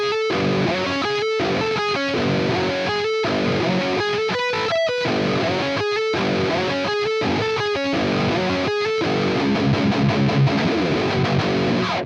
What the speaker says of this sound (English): the Helix immediately has a usable metal sound.